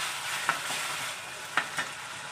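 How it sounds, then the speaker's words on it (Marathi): Tomato sizzles steadily in a pan with ginger-garlic paste and a pinch of hing for pav bhaji, with a few soft stirring scrapes breaking through the constant close frying hiss. "थोडंसं परतून घ्यायचं आहे।"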